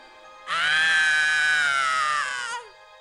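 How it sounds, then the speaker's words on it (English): A single woman's high, sustained scream for help rings out for about two seconds with a clear, wavering pitch, then cuts off, in the Hidden Mysteries: Titanic game. "It sounded like a woman screaming for help."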